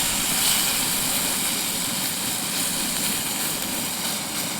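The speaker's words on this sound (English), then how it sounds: "it's made a lot easier with this jet powered sort of like stove." A jet-powered camp stove roars steadily and loudly while pheasant and wood pigeon lightly fry outdoors at a wet wild campsite, a continuous broadband rush with no talk.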